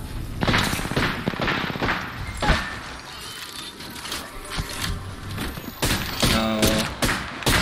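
Apex Legends gunfire comes in rapid bursts of shots and booms at moderate distance, mixed with game effects and a brief spoken word.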